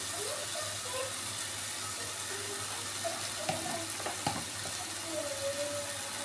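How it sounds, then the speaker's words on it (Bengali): Spice paste (masala) sizzles steadily in a hot pan, a continuous hissing fry broken by a few soft clicks from stirring. "আমি একটু মশলাটা ভালো করে কষিয়ে নিচ্ছি"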